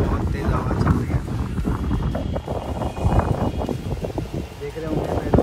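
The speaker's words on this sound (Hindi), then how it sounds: "बहुत तेज हवा चल रही है आज तो" Strong wind gusting across an open terrace, a steady loud rushing roar with buffeting against the microphone throughout, as heavy rain begins nearby.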